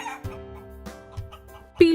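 A hen clucks in a children's story: soft, spaced clucks build to a louder, rising squawk near the end, with no talking over it.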